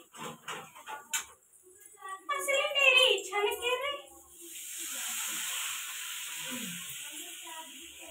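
Masala spice paste frying in hot oil in a pan, a steady soft sizzle and hiss that takes over after a person speaks, staying even and close for the last few seconds.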